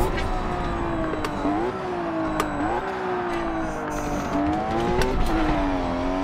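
BMW M4 race car in Forza Motorsport 7 holds a loud, steady engine drone close up, its pitch dipping and climbing again with each gear change, with faint tire noise beneath.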